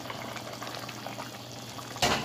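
Chicken meat for a roast boiling in a pot, a steady close bubbling and simmer that swells into a louder, sputtering burst near the end, with no talking.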